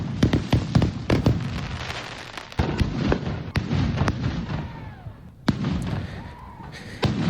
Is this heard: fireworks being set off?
yes